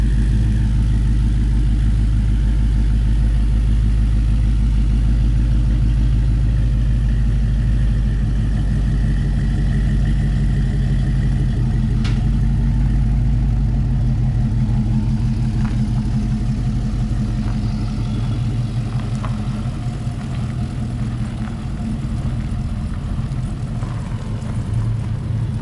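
A 1971 Chevy Camaro engine idles with a deep, steady rumble that stays loud and constant throughout, with a few faint clicks and light knocks over the top.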